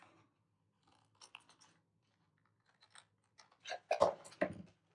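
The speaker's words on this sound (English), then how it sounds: "I'm going to trim this off." Scissors trimming fabric for a crafted tag, a few faint snips early, then a cluster of sharper, louder crisp cuts near the end in a quiet room.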